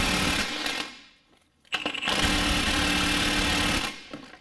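Air impact gun spinning a lower control arm bolt on a Nissan Rogue, a loud, close, buzzing rattle in two bursts separated by a short pause.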